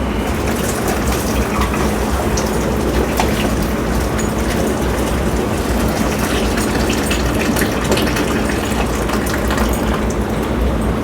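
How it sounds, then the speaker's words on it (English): Boiling pasta water poured from a pot into a colander, a loud continuous gushing and splashing rush of water that runs steadily throughout with no talking. "So he's going to put the pasta in a colander."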